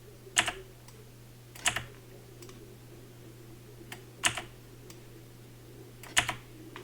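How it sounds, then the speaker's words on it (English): A few separate, sharp presses of the delete key on a computer keyboard, spaced a second or two apart, close and fairly quiet over a low steady hum. "hitting delete on my keyboard"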